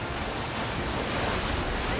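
Rushing river water in the video game Final Fantasy 7 Rebirth, a steady broadband wash of flowing water and surf-like noise that stays loud and constant throughout with no voices.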